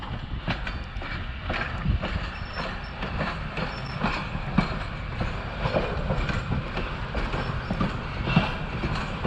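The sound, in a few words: train moving on a wye track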